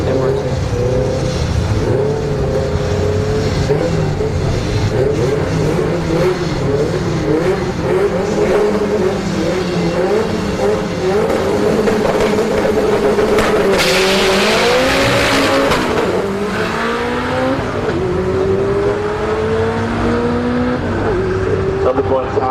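A drag racing car with a twin disc clutch revs and launches at Orlando Speed World drag strip, a steady loud engine roar with a rising pitch sweep, under crowd noise and voices.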